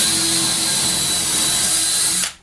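A power drill bores into wood in a single continuous, loud, close whine lasting about two seconds before it abruptly stops.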